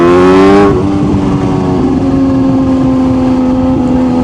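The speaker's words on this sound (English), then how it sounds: "no other naked bike on the market has a beautiful flutter that this does" Supercharged Kawasaki Z H2 naked motorcycle engine revving loudly up close, then settling into a steady fluttering drone with a strong, rich harmonic tone.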